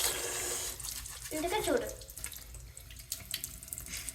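Tap water runs into a sink while a toothbrush is rinsed, a steady splashing stream that drops to lighter trickles toward the end. A voice speaks briefly over the water.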